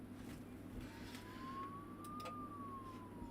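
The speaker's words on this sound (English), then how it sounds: "I don't know why the ambulances need to like run their sirens in the night when there's like no traffic." An ambulance siren at night: a single faint wail rising and falling in the distance over a steady low background hum.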